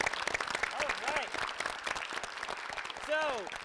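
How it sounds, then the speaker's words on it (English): A round of applause for two quiz teams in a game show, steady crowd clapping throughout with voices and a few whoops or cheers rising over it near the end. "Let's give a round of applause"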